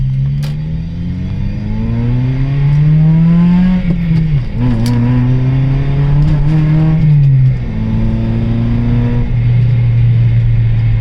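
A Honda Civic Si EP3 engine revs hard under acceleration, pitch climbing steadily through the gears with brief drops at each shift, loud and close throughout.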